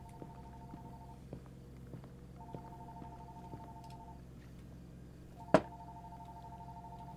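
A phone rings inside the video game Fears to Fathom, a faint electronic tone repeating in three even bursts. A single sharp knock breaks in near the end, and low ambient hum sits underneath.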